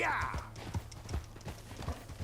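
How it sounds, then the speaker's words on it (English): In Red Dead Redemption 2, a donkey's hooves clip-clop in a quick running rhythm, moderately close, while a person talks over the footfalls. "Run, little donkey! Run, little donkey!"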